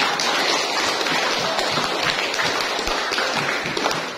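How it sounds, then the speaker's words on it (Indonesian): Church congregation at a Sunday Mass applauding, a steady patter of many hands clapping throughout, moderately loud and close, with no talk over it. "Kita berikan tepuk tangan untuk ordo"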